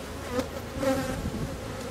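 Honeybees in an opened hive after swarming, a close, continuous low buzzing drone with slight swells in loudness, no talk.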